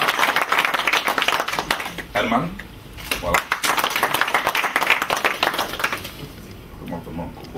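An audience at a Cojep congress in The Hague claps in dense bursts as individuals are called forward, with brief pauses between rounds and someone speaking over the applause.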